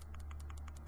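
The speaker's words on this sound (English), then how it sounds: "You could hear the clickiness. It's a firm click." Firm tactile buttons on a vape mod are pressed in a quick, even series of about eight crisp little clicks over a low steady hum.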